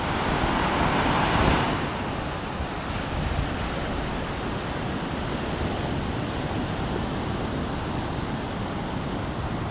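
Ocean surf rolls and breaks steadily on a beach near San José del Cabo and Boca del Tule in Baja California Sur, a broad continuous wash that swells louder in the first two seconds, then settles into a constant roar with wind noise.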